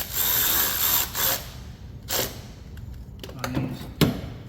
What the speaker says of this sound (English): Now you can tighten up one side at a time